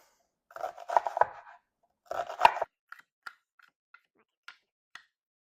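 A knife slicing through cauliflower on a cutting board, two short crunchy bursts of cutting followed by several light isolated taps on the board, close and in an otherwise quiet room.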